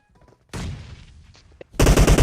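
Gunfire bursts in a shooter video game, a loud sustained volley followed by a brief lull and then another dense, heavy burst of rapid shots close up.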